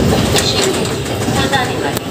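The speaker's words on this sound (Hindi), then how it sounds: "दस मिनट के स्टॉपेज के बाद दोस्तों ट्रेन चल चुकी है यहाँ से" An Indian express train pulling out of Moradabad junction after a stop, heard from on board as a loud steady rumble with faint wheel clatter and squeaks, continuous and close.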